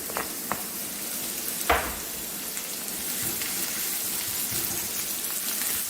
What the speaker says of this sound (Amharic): ዘይቱን ጠበስ ጠበስ ታረጋላችሁ